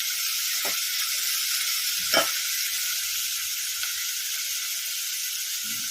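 Ingredients for sambar sautéing in a hot pan, a constant loud sizzle with a couple of brief stirring knocks.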